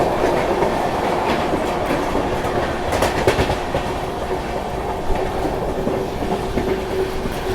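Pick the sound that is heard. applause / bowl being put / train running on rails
train running on rails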